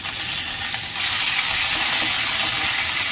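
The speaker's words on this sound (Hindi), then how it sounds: "मैं इसमें अदरक लहसुन का पेस्ट डाल रही हूँ" Ginger garlic paste hits hot ghee with cumin and asafoetida, a loud close hissing sizzle that jumps up as the paste goes in and then stays steady and bright.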